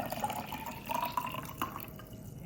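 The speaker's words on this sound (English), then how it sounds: "so I'm gonna put some nice hot water," Hot bath-temperature water pours into a jar before a homemade bath bomb is tested, a close, continuous trickling and splashing with small drips throughout.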